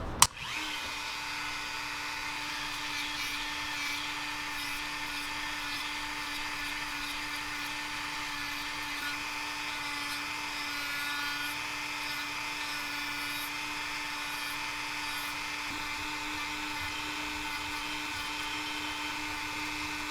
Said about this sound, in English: We're going to put the Dremel to a lot of use for this.